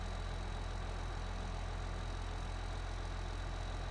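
An International Harvester 4786 tractor engine idles in Farming Simulator 17, a steady, quiet, low continuous hum with no talk over it.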